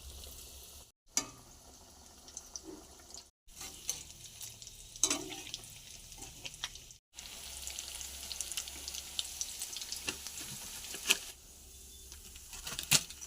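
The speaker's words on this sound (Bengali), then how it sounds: "ব্রেড গামসে দিয়ে ফিশ ফিঙ্গারগুলো তেলের মধ্যে দিয়ে এক এক করে ভেজে নেব" Rohu fish fingers coated in egg and breadcrumbs fry in hot oil with a steady, moderately close sizzle, broken by a few brief silent gaps and light clinks, with no talking.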